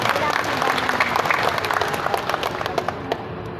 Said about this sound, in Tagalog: Palakpakan natin ang Diyos ng isang malakas na palakpak.